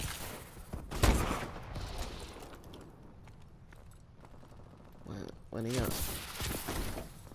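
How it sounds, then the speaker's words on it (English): Gunfire in the shooter game Call of Duty Advanced Warfare: a loud rattling burst of shots with a sharp crack, then quieter action and another burst, with a player talking throughout. "I shot him in the fucking leg"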